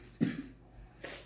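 A person gives a single short cough close by, followed by a softer throat sound a moment later, in an otherwise quiet room.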